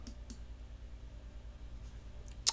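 A single sharp mouse click on an update button in a web app, a close, quiet tick near the end of an otherwise near-silent moment with faint earlier clicks.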